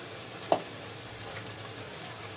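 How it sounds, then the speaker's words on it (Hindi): Ground batter for mutton paya fries in a pan with a steady soft sizzle and one brief clink of a utensil near the start, and no voices. "अब इसको अच्छे से फ्राई करेंगे"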